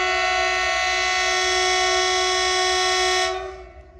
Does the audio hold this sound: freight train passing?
yes